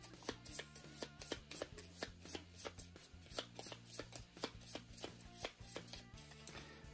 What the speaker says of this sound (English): These are all going to get shuffled back into the top.